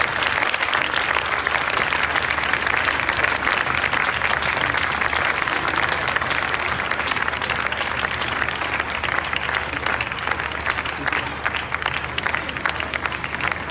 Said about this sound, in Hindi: जब तक आएंगी जोरदार तालियां खुदा के खादम के लिए बजानी है।